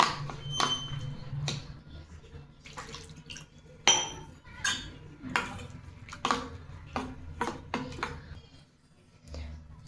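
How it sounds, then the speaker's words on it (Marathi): Batter of rice flour, coarse semolina, chopped onion and tomato mixed by hand in a bowl, with a series of sharp spoon clinks and wet stirring taps at an uneven pace, close and fairly quiet. "अर्धी वाटी जाडसर रवा, कांदा, टोमॅटो हे व्यवस्थित मिक्स करून घेऊ"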